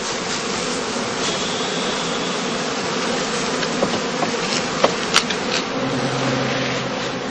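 Honeybees buzz in a continuous, loud drone around a straw skep wrapped in gauze cloth on a heathland apiary, with a couple of sharp clicks near the end.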